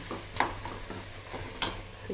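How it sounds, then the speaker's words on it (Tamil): Taro root (colocasia) roasting in a pan at home, stirred with a utensil: intermittent scraping strokes and clinks over a faint, steady sizzle, close and moderately quiet. "சேப்பங்கிழங்கு ரோஸ்ட் பண்ணி முடிக்க போகிறேன்"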